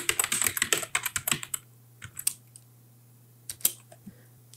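Typing a short chmod 400 command on a computer keyboard in a quiet room: a quick burst of close, crisp key clicks, then a few scattered taps and a final keystroke after a pause, with no talking.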